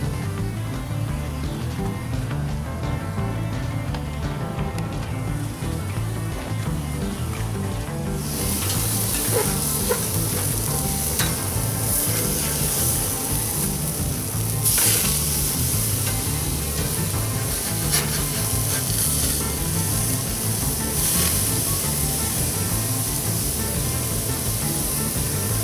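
Smash burger patties sizzle on a hot griddle, a loud continuous hiss that jumps sharply as the meat hits the surface, then carries on steadily with occasional scraping and spatter pops, no voices.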